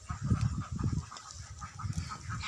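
Young ducks on a farm make a busy, overlapping chorus of nasal honking quacks, close by and fairly loud.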